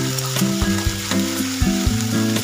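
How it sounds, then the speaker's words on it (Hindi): Onions and cumin sizzling and frying in a pan for aloo chop, a steady close crackle with a few soft stirring knocks and faint tonal hum in the background, no voices. "तो पहले भूनेंगे, अच्छे से भूनेंगे इसको"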